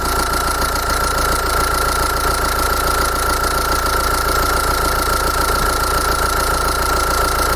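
A common-rail diesel car engine runs at a steady idle, loud and close, with a constant rattling drone and a persistent high whine, no voices.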